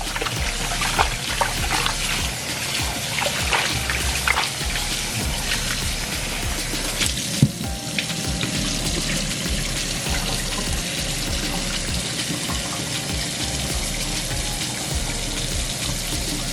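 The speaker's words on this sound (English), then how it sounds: "You can wash it a few times. Keep rinsing it." Pork belly is rinsed under a running tap, with a steady close splashing and trickling of water over the meat that continues the whole time, no voices.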